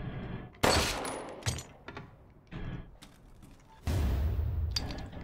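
Gunfire in the horror video game Resident Evil Village: a few sharp, loud shots ring out separately, then a longer burst near the end, with no talking over them.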